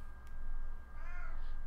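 A pet cat meows once indoors, a short close tonal call rising and falling after a brief low hum of room noise.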